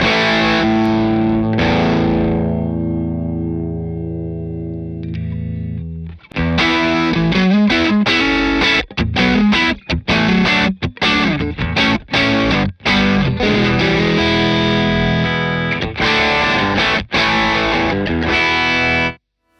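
An overdriven electric guitar played through a Keeley D&M Drive pedal at lower gain rings out with a sustained chord, then launches into loud, crunchy riffing with sharp stops and choppy rhythmic hits.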